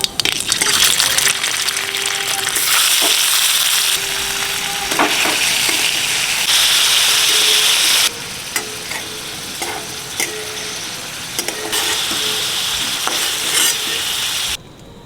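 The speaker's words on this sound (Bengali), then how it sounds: "চলো বন্ধুরা পনিরগুলো ভেজে নিচ্ছি" Paneer pieces fry with cumin seeds in hot oil, a loud close continuous sizzle with stirring and shifting intensity that holds for the whole stretch.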